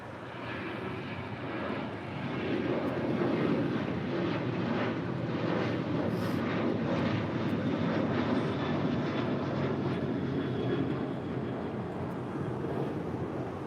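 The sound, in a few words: airplane landing on runway 24 right at LAX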